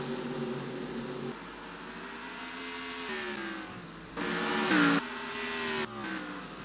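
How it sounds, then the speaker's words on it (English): Race cars in a Craftsman Cup Series round at Nazareth roar past on the track, engines droning steadily with a louder, brighter car sweeping close by midway and shifting pitch as it passes. "He's actually catching up to the 48 of Chris Summers, the best place of the Hendrick team."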